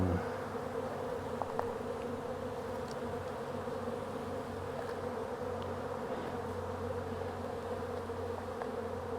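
Honey bees humming inside closed survivor hives on a chilly spring day, a steady low drone that stays faint and continuous, with no voices.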